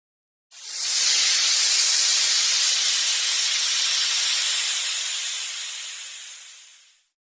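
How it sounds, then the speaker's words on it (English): A sustained broadband hiss sound effect, like steam escaping, starts abruptly, holds steady and loud for about six seconds, then fades out, with no voices. "Hiss."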